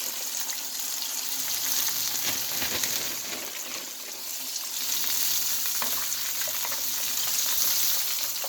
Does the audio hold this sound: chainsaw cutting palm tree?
no